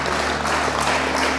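Church congregation applauds, a brief dense burst of clapping over a steady low hum, loud and continuous.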